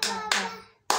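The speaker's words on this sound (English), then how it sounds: "Clap for yourself." Three sharp hand claps in a quiet room, close and crisp, each ringing briefly before the next.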